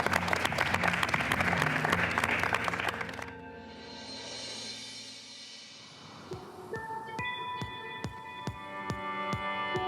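A burst of dense clapping carries through the first few seconds, then cuts off abruptly into music.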